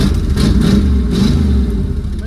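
Engine of a 1979 Chrysler 300 running on a test drive after a junkyard rescue, a loud close-up steady rumble with slight rises in pitch as it pulls.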